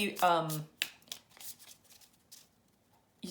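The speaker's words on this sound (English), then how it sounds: "Let's pull a personal power card." Tarot cards are handled, shuffled and drawn, making several quick, close snaps and soft flicks. A brief voice sounds at the very start.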